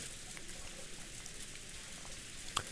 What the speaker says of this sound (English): It's still freaking raining, but then again, when was it not going to be raining in this game?